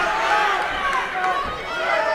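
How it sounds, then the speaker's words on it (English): A fight-event crowd at PFC 18 roars in a sustained wash of cheering and shouting, loud and continuous, with voices mixed through the noise. "This crowd is going crazy"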